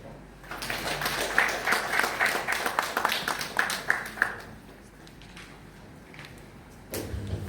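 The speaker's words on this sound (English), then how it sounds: "let's give another round of applause" An audience claps for several seconds at a climate and environmental communication initiative launch, dense hand claps fading out, then a short burst of noise at the end.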